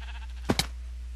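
Two quick bleats from a Minecraft sheep in a parkour game, short and close, one right after the other over a low steady background hum.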